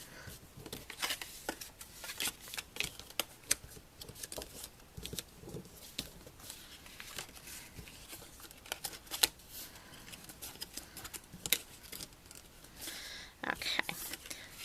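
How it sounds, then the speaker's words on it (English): Cardstock being creased and folded along score lines while assembling a Halloween test tube treat box, giving soft crinkling, rustling and crisp paper snaps throughout, fairly close and moderately quiet. "And then just fold on all of your score lines."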